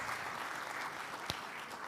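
Another round of applause from a seated audience at a sustainability conference session for its speakers; a fairly soft, steady wash of many hands clapping, with one louder clap standing out near the end.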